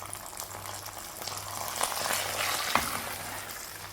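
Cashews and raisins fried in ghee are tipped, ghee and all, into a sago and jaggery payasam, giving a soft steady sizzle and bubbling hiss with one brief clink near the end.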